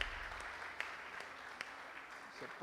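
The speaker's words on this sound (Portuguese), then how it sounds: "uma salva de palmas, gente, pela vida da Aloíse" Quiet, distant applause from a church congregation during a baptism and child-dedication service, a steady low wash of clapping with a couple of sharper claps and faint voices.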